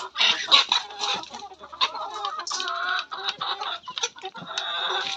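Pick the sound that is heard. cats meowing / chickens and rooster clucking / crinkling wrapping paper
chickens and rooster clucking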